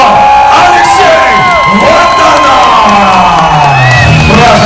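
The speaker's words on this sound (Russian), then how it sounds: "ваши громкие аплодисменты" A crowd at a student MMA league tournament roars for a newly crowned champion, loud continuous cheering, whoops and shouts filling the arena, with little distinct clapping audible.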